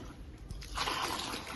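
Cold water poured over cooked rice, a short splash that swells from about halfway and keeps running as a steady close pour and trickle.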